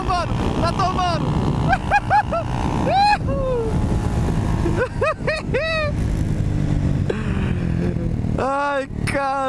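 A Honda SH 300i scooter and a Honda CB 300R motorcycle race flat out on a straight. Engine tones rise repeatedly through the gears over steady wind roar.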